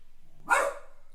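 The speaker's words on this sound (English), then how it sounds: "you can hear my dog barking in the background" A single short dog bark rings out at moderate distance, sharp and brief against a quiet background.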